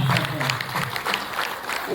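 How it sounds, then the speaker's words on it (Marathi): Applause from an audience in a hall at a Shiv Jayanti celebration and award ceremony comes as dense, continuous clapping that blends with crowd noise. "टाळ्यांचा कडकडा"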